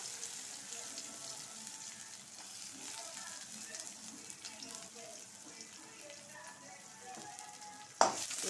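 Sliced onion being tempered in hot oil for a wedding-style cabbage poriyal gives a soft, steady sizzle with faint stirring, ending in a sharp knock of a spoon against the pan.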